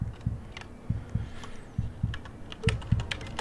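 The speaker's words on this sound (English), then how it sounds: "Oh no! I was typing." Keys clacking on a computer keyboard in quick irregular bursts of close, crisp taps, with a short pause in the middle before the typing picks up again.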